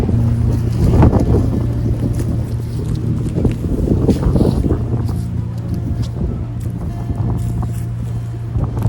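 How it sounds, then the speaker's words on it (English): Strong wind buffets the microphone in continuous gusty rumbles in a spring garden, with a steady low drone underneath throughout. "as you can tell, it's very windy out here"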